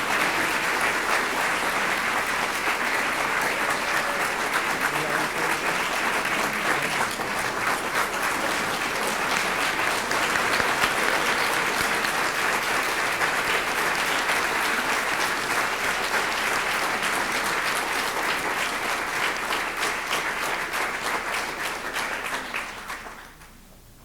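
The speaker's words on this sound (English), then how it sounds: "Let's give them one more big round of applause." An audience at a school district board meeting gives a long round of applause for honored students, a dense, even wash of clapping that holds steady for about twenty seconds before fading out.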